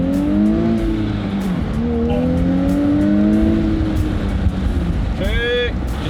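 A 2022 Nissan Z accelerating hard from inside the cabin, its induction noise rising in steady sweeping tones through several gear pulls, loud and continuous, with a brief squeal near the end.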